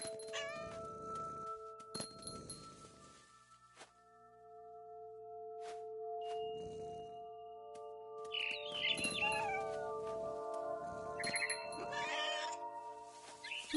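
A cat meows repeatedly in What Remains of Edith Finch, several distinct close meows spaced across the stretch over quiet game ambience with tonal music.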